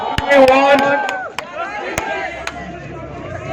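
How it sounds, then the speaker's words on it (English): A crowd at an outdoor peace rally for Manipur in Shillong's D.B. Square claps in a few sharp, scattered bursts rather than steady applause, with voices talking and murmuring throughout. "Let's do a clap."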